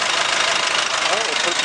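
A Nissan Navara D40 with its YD25 2.5 turbo diesel engine runs at a wrecking yard, a loud, close, steady clattering idle with a voice speaking over it.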